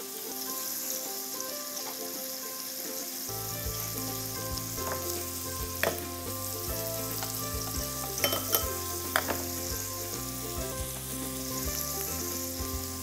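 Chopped onions and garlic frying in a pan for a lamb and cabbage dish give a steady, close sizzle, with background music joining after a few seconds and occasional light utensil clicks.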